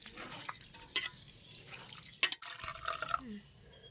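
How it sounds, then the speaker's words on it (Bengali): Dal lentils are swished and rinsed by hand in water, with intermittent splashing, dripping and a few sharp clinks against the bowl, quiet and close. "এইভাবে আমি বারবার দুবার তিনবার করে ধুয়ে নেবো যতক্ষণ না জলটা পরিষ্কার হচ্ছে"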